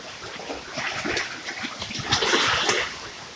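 Strong waves break and splash on a shore in a rushing, hissing wash that builds louder toward the end, close by and without talk.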